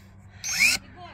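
A brushless BravoBro electric pruner snaps through a branch in one quick, sharp cut, a brief whirring crunch lasting under half a second between quiet moments, with speech nearby.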